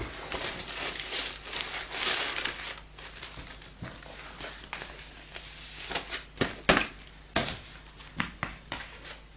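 A vinyl record's plastic bag crinkles and rustles up close in irregular bursts, some crisp and loud, others soft, with brief quiet gaps between handlings.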